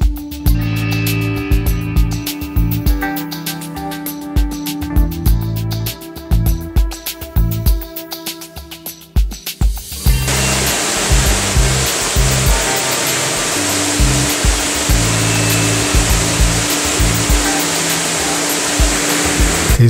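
Creek water flows loudly and steadily beneath a log bridge along Lewis Creek in Madera County, in regrown forest. The rush is continuous and broadband, with a denser wash in the second half and no voices.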